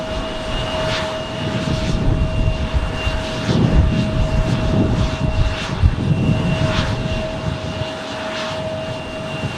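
An F-16 fighter jet passing overhead near Tucson's airport, a loud, continuous engine roar that swells slightly in the middle and holds steady with no voices.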